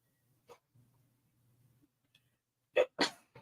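Two sharp bursts in quick succession, a short sneeze with its intake, close and loud, after a quiet stretch with a soft low hum.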